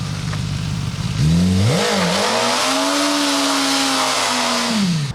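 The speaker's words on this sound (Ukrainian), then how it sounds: "Це мій мотоцикл." A powerful Japanese motorcycle revs hard close up: the engine climbs sharply to a loud, sustained high-pitched roar, holds there and then drops back off, with no talk over it.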